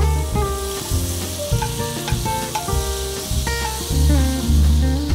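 Butter sizzles in a hot pan for a quick after-school snack, a steady hiss running beneath prominent background music with tonal melody lines throughout.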